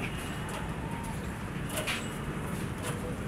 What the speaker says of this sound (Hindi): ये देखिए पंजाबी कबूतर है,